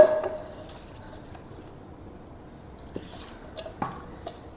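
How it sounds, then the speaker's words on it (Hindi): Petrol splashed and dripping onto a greasy TVS Ntorq 125 scooter part during cleaning with a brush, a few short faint wet drips and splashes over a quiet, slightly noisy background. "ब्रश ले लो, थोड़ा सा पेट्रोल इधर डालो"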